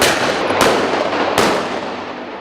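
Two sharp gunshots from mounted shooting on horseback, a fast Old West-style sport, crack about a second apart over steady outdoor background noise.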